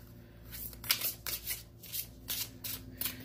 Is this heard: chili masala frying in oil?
no